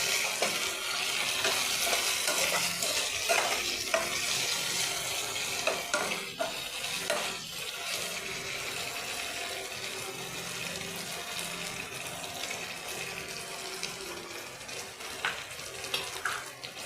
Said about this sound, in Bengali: এবার আমি পেঁয়াজটা ভাজা হয়ে গেছে, আদা রসুনের পেস্ট দিয়ে দিচ্ছি।